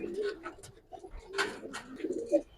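Silver-coloured Giribaz pigeons coo softly in short, repeated rumbling calls, close by, with a voice speaking briefly among them.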